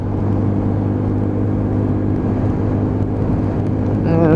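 A Lexmoto ISCA motorcycle being ridden, a steady droning engine hum with a strong low tone and road rumble throughout, rising slightly at the end.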